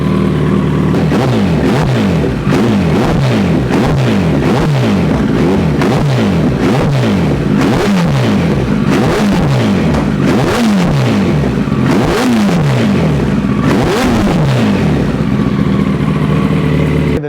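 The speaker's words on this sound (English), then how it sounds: "And as you give it more throttle, you'll see the rear wheel spinning a little bit more and more." A 2022 Kawasaki ZX14r motorcycle with a Brocks exhaust, stripped down and running with its rear wheel spinning, revved repeatedly in quick rising and falling blips, loud and close, with no talk.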